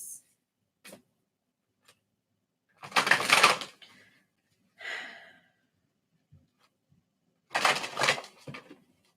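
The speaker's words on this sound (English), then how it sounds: "So I wait for the proverbial click to take place when I'm shuffling these cards." Tarot cards are shuffled close by in two fuller bursts of riffling, with a smaller flurry between them and a few light taps in an otherwise quiet room.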